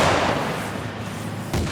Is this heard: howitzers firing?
yes